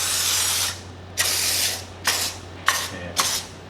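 IK foamer pump sprayer releases five hissing spray bursts, one long opening blast then four shorter ones in quick succession, loud and close with no talk.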